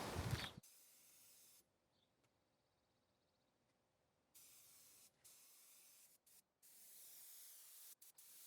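A spray gun hisses in long, steady bursts while laying Awlgrip paint onto a boat's top side, starting and stopping several times with quiet gaps between passes.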